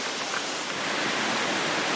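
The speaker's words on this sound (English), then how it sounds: "all this water's coming from the top of the mountain somewhere" A river rushes down from the mountains at Pura Gunung Kawi in Bali, making a steady, dense roar of flowing water that fills the whole stretch without any voices.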